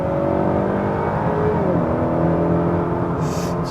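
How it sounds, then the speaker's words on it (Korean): A Honda Accord 2.0 turbo Sport accelerates hard, its engine note rising steadily and loudly from up close, then easing briefly before climbing again, with no talk over it. "자, 그러면 가속을 한번 해보도록 하겠습니다."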